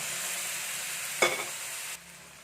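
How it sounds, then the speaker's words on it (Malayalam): Chickpeas tipped into a hot pan for a chickpea roast, giving a steady close sizzle with a quick clatter and stir in the middle, then the frying quiets slightly. "ഇതിലോട്ട് നമുക്ക് എടുത്ത് വെച്ചിരിക്കുന്ന ഈ കടല അങ്ങോട്ട് ഇട്ട് കൊടുക്കാം"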